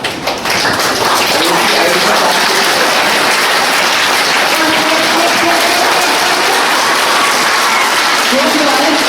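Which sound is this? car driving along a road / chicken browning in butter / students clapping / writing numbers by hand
students clapping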